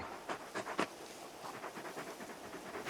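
Torgal, the giant wolf companion in Final Fantasy XVI, panting in quick soft breathy bursts, a few sharper huffs early on followed by steady lighter breaths, close and fairly quiet.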